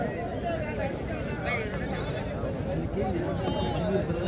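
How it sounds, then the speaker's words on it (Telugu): Sheep bleat at a busy weekly sheep market in Chelur, wavering calls rising over a constant crowd murmur, with people talking nearby throughout. "గొర్రెలు ఇవన్నీ"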